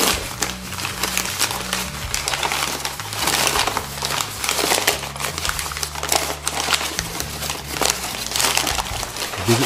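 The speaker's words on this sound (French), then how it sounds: "donc c'est le joystick là, que je suis en train de déballer" Loud, continuous crinkling and tearing of stiff kraft paper as a joystick is unwrapped, with rustling bursts close to the microphone throughout.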